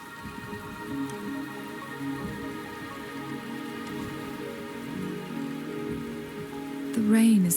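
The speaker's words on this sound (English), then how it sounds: "The rain is subsiding," Steady rain falls in a Wuthering Waves game scene, a soft even patter on surfaces beneath a low ambient drone, with a brief brighter rustle near the end.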